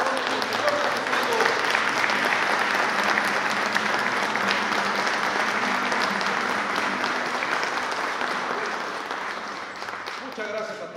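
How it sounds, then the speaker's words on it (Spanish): A church crowd claps loudly for the festival of their patron saint, the Lord Jesus Christ, during a morning mañanitas celebration, dense sustained applause filling the space and slowly tapering off near the end while a voice talks over it. "Un aplauso fuerte, pero que se escuche para la fiesta de nuestro santo patrón"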